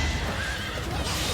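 A flying horse in the video game Fire Emblem Three Houses gives one loud, close neigh, a short whinny over busy game sound.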